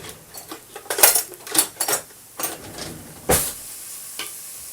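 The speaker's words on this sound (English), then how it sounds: "So that's our onions ready, in the pan sizzling." Onions sizzle in a Saladmaster pan while a utensil stirs and scrapes against it in irregular bursts, close by with no talking.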